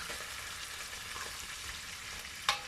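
Celery fries in oil in a pan while being stirred, a steady close hiss with a brief sharp scrape of the utensil near the end; no talking.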